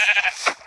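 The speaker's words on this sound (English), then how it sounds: "Come here, Mr. Sheep" A sheep in Minecraft gives a loud, close, quavering bleat followed by a second short bleat at the end, with no talk over it.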